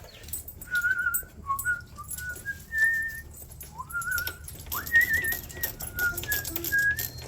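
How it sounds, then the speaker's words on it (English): A person whistles a wandering, melodic tune close by in a quiet workshop, with short sliding notes and brief pauses between phrases throughout. "You think I was whistling to you?"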